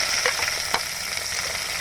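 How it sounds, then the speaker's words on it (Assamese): Onions frying in a pan, a steady close sizzle with a few soft stirring scrapes, no voices. "এতিয়া চাব পাৰে পিঁয়াজ ঢালি দিছোঁ।"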